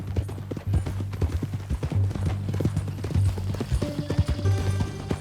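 Horse hooves clip-clopping at a steady walking pace in Red Dead Redemption 2, close and clear, over a low droning background with a faint tonal hum, no talking.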